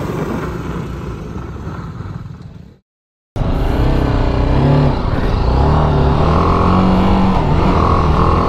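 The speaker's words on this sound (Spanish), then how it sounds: "empezamos a practicar frenadas, echando el cuerpo hacia atrás, clavando rueda trasera, intentando frenar al máximo con la delantera" Trail motorcycle braking hard on a dirt course, rear wheel locking while the front brake is squeezed to the limit: a loud, close engine drone cuts out briefly, then returns with wavering revs and rough clatter.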